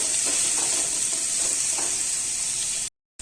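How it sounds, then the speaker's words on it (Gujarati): Finely chopped capsicum and masala sautéing in a pan, a constant bright sizzle with soft stirring scrapes, loud and close, then a brief cut to silence near the end. "હવે એમાં કેપ્સિકમ ઝીણું સમારેલું નાખીશું। બધો મસાલો બરાબર શેકાવા દો।"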